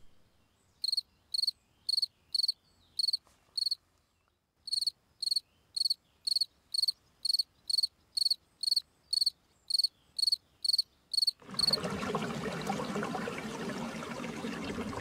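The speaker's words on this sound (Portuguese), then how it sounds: "Os grilos tentam atrair as fêmeas com as suas cantigas e enchem os campos de melodias." Crickets chirp in open fields in short, regular pulsed bursts, clear and close against silence, before a broad rushing wash of noise takes over near the end.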